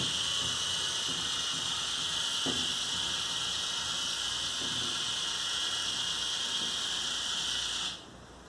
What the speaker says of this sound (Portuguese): Apertando o botão para cima, o elevador vai parar no primeiro andar.